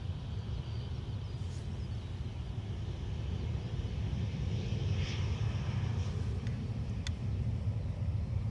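Aircraft on the runway at Dublin Airport: a steady, low rumbling engine roar heard from a distance, constant and unbroken for several seconds, with no talk.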